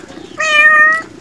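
A cat gives a single clear, drawn-out meow at close range in a house, standing alone against faint background noise.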